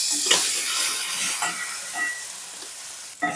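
Tomatoes, chana dal, coriander seeds, pepper and dried red chillies sautéing in a pan for Vellore rasavangi, a steady close sizzle with scraping stirs and a sharper clatter near the end.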